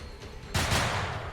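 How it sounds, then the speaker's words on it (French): One sudden gunshot cracks after a quiet stretch and leaves a broad, rough echo hanging for nearly a second. "Il y a un coup de feu qui part."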